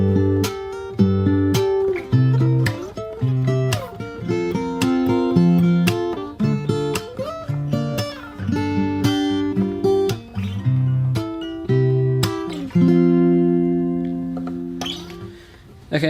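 The second half of the chorus of a song is played on fingerstyle acoustic guitar, with plucked chords and bass notes in a swaying rhythm that ends on a sustained ringing chord, close and solo.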